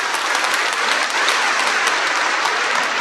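A crowd at a church festival closing ceremony in Kurnool's Our Lady of Lourdes Cathedral claps continuously. The dense applause stays loud and even from start to finish.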